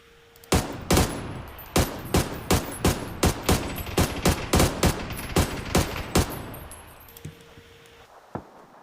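A rapid series of sharp, loud gunshots, nearly twenty cracks in quick succession, then a few isolated shots as the firing stops.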